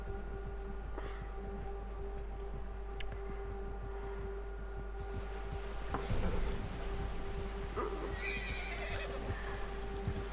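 A horse in the video game Red Dead Redemption 2 whinnies and neighs over a constant low hum, with clip-clopping hooves and a louder burst of neighing midway.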